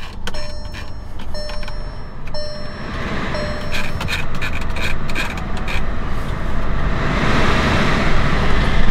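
A 2021 Volkswagen Atlas SEL starts by push button on a hot day: a few bright chime tones ring first, then a low, steady engine idle rises under outdoor ambience.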